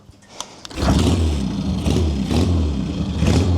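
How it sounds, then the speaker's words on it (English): A few faint clicks, then a rebuilt 1953 Triumph 650 pre-unit chopper motorcycle engine with an iron head catches after a kick-start and settles into a steady, throbbing idle with a slightly uneven low rumble. "Really nice, smooth sounding engine with that iron head"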